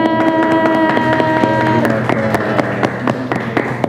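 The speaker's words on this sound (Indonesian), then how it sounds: "Boleh dong tepuk tangan untuk dokter." Audience clapping for a doctor at a live morning talk show on breastfeeding tips, a dense patter of hand claps sustained throughout over steady music tones.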